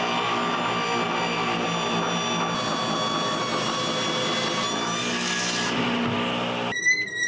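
A saw fitted with a Euro rip blade cuts through an epoxy resin cutting board, producing a loud, sustained whining grind with steady tonal ringing that runs nearly throughout before cutting off, followed by brief clattering.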